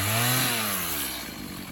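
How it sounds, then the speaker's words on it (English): A chainsaw engine roars loudly and close, its pitch dropping slightly as it bites into wood, cutting large branches into firewood on a homestead in Austria, running steadily throughout. "my dad uses a chainsaw to cut down the bigger pieces"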